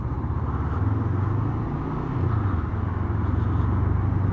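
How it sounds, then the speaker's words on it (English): A Honda CB500F motorcycle engine idles steadily nearby, a low, even rumble with a slight rise and fall in pitch. "Nice easy engine."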